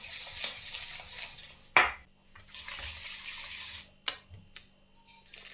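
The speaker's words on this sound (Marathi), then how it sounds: "थोडं थोडं करून पाणी घालायचं मिक्स करायचं" Water being whisked into dhokla batter in a bowl, wet swishing strokes in bursts with a couple of sharp clinks of the whisk against the bowl, close and fairly quiet.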